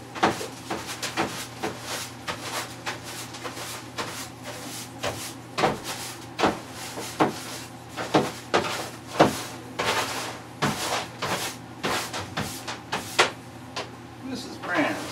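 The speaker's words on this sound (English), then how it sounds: "You can hear the puff adder in the background puffing and puffing." A puff adder in captivity puffs and hisses in the background, giving repeated short breathy bursts at an uneven rhythm over a steady low room hum throughout.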